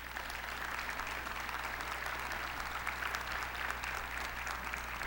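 Audience applause at a 9/11 memorial ceremony inside a theatre, a steady broad wash of many hands clapping continuously for the whole stretch, with no voices standing out.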